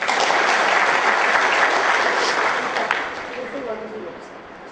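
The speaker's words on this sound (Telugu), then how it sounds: "మరి మీరందరూ అలసిపోయినట్టు అనిపించింది కాబట్టి ఒకసారి క్లాప్స్ కొడితే బాగుంటుంది." Dense applause from a large seated audience at a lecture hall event, a loud continuous wash of clapping that gradually tapers off toward the end.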